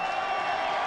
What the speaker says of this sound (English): You can hear the crowd absolutely screaming for Aurelien Girard.